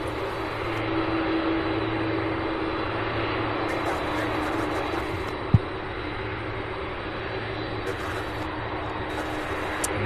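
A Boeing 747 cargo plane taxiing at Louisville airport gives off a steady, loud engine roar and low hum, continuous throughout with a single sharp knock partway through.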